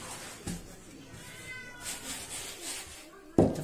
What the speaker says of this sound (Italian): è il mio gattino, vedi che vuole entrare.